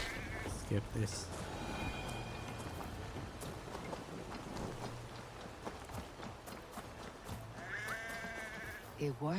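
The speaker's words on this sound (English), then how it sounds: "The sheep follows my whistle." Several sheep bleat in short wavering calls amid the busy Assassin's Creed Valhalla game soundscape of footsteps and background noise, with a voice talking intermittently.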